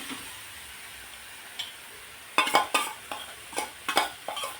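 Boiled crushed sweet corn being stirred into frying capsicum in a pan: a quiet sizzle, then a run of sharp spatula scrapes and clinks against the metal pan in quick irregular strokes, close and unaccompanied by talk.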